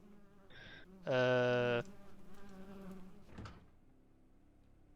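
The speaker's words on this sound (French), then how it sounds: "ça valait quand même pas la peine d'avoir autant de mouches autour" Flies buzzing in the MiSide demo video game, a loud, steady, tonal insect drone lasting under a second, with fainter game sounds and a brief hesitant voice nearby.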